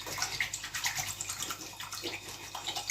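A dirty makeup brush is swished and rubbed in a basin of water, giving soft continuous splashing and sloshing with small bubbly drips, fairly quiet and close, with no talking.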